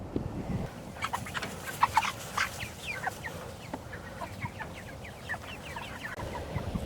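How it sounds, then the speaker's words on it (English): A brooder crowded with 310 meat chickens, a continuous chorus of soft peeps and clucks, some calls close and sharp, others overlapping in the background at moderate volume. "310 meat birds in the brooder about to come out to pasture after Hurricane Ian"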